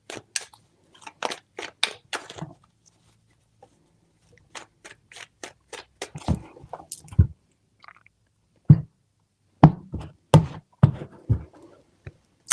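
Tarot cards are shuffled in short bursts of crisp flicks and riffles, close up, with quiet pauses between the handfuls.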